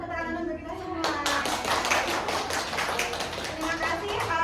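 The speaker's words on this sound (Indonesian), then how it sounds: "Yuk kita ulangi Bapak Ibu, tepuk tangan untuk kita semua." A group of adults at a presentation clap their hands together after a voice speaks, producing a dense, steady burst of clapping with talk faintly continuing underneath.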